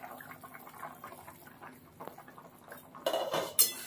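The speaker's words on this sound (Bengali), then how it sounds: "এবার ঢাকনাটা একবার খুলে নেব" A lid lifted off a cooking pot of Bengali fish curry, with soft clinks of metal cookware building to a brighter clatter near the end, close and fairly quiet.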